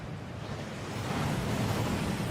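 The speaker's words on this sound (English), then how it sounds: "That waterfall washes away all enchantments." A waterfall in a Harry Potter Gringotts scene rushes in a steady, full, hissing roar that holds evenly throughout and swells slightly toward the end.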